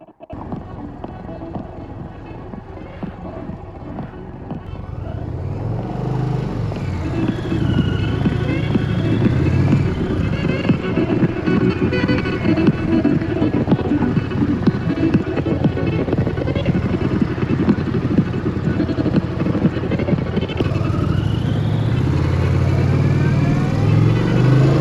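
An Indian Pursuit motorcycle on the road, its engine rumbling steadily and building as it gets under way, with wind noise and faint talk mixed in over a long, continuous ride.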